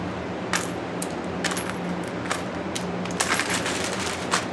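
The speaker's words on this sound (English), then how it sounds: "get a plastic bag and just throw the cases inside." Brass rifle cartridge cases clink and rattle as they are tossed into a plastic bag, a series of bright metallic jingles in irregular bursts with quiet pauses between, close and alone.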